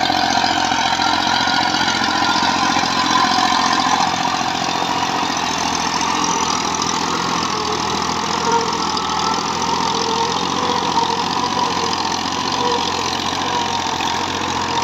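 A Model 240 tractor pulls a wide 54-cutter rotavator through a field, its engine droning steadily and loudly under load with a constant churning roar and no pauses.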